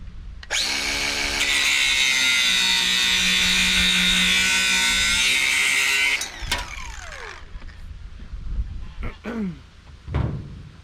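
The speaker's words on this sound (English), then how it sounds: "we'll go ahead and cut that off with the grinder." An angle grinder cuts through metal during a Case tractor repair, a loud steady high-pitched whine for about six seconds before it spins down, followed by scattered clanks and handling noises.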